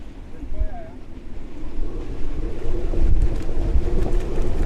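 Strong wind gusting up to about 40 knots buffets a sailing boat on a channel, a heavy low roar and rumble of wind against the microphone that swells louder over time, with a brief voice early on.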